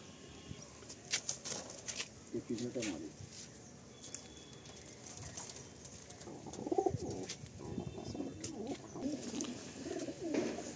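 Pigeons in a loft coo in soft, repeated bursts at low-moderate level, with occasional wing flaps and small clatters, while someone talks intermittently nearby.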